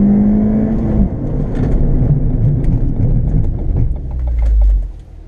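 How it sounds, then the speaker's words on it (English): A Ford Fiesta ST MP215 accelerates hard through gears in a timed acceleration and braking test, a loud droning engine roar from inside the car, with a brief rev dip and a final surge before it cuts off. "So this is timing the acceleration and the braking capabilities."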